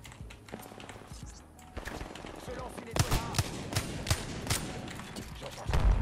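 Wingman revolver shots in a fast-paced shooter game, with several heavy, spaced gunshot cracks amid game effects and a player talking over them.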